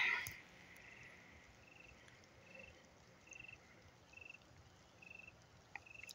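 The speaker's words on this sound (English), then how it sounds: "The crickets just started back." Crickets chirping at night in the woods, faint and distant, a thin repeating trill in short regular bursts against a quiet background hiss.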